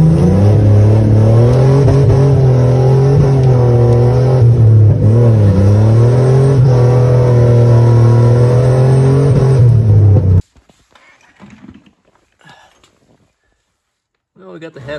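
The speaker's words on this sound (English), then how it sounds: "Rev limiter." A turbocharged 4.3 GMC 1500 engine revs hard against the rev limiter, a loud, sustained droning roar with slight wavering pitch for about ten seconds before it cuts off, leaving faint sounds afterward.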